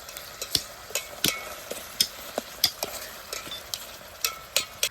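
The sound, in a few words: vegetables frying in a pan for pasta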